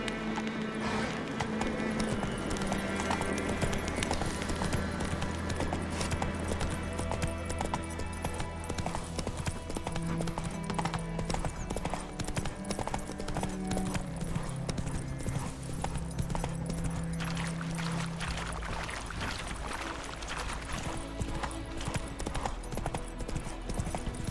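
Roach the horse gallops in The Witcher 3: Wild Hunt Enhanced Edition, rapid hoofbeats pounding continuously and close, layered over steady game music.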